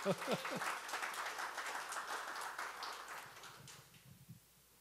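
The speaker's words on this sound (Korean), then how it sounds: "그럼 박수 한번 쳐야 하겠어요." Lecture audience clapping in a hall, a light scattered patter of hands after a voice, fading out toward the end.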